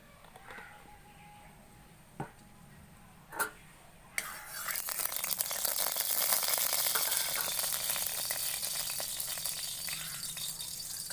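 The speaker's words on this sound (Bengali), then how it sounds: "আগে সামান্য একটু কড়াইতে তেল দিয়ে দিব।" Oil poured into a hot kadai before masala-coated crab goes in: a few sharp clicks and clatters, then a steady, bright sizzle of frying oil rises and holds loud and close for several seconds, with no talking.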